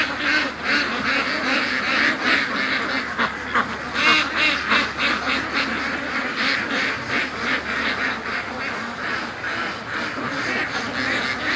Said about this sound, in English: the ducks are wasting no time to go to the lake today.